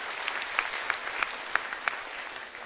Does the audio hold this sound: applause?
yes